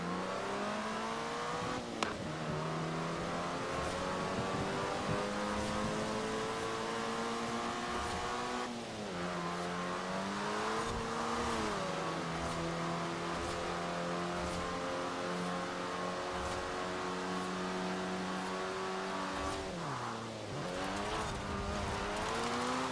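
The Ford Anglia, the Harry Potter car, races through a Forza Horizon 4 street race with a loud, close engine. Its revs climb and drop through several gear changes, with brief dips where the driver lifts off.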